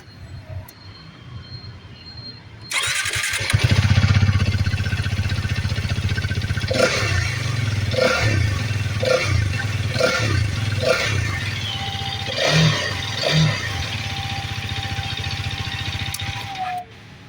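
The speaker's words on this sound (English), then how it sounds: "Let me just start it and rev it up for you." A motorcycle engine kicks in after a few seconds and then holds a loud, steady running drone, with repeated short revs pulsing through it and no talk.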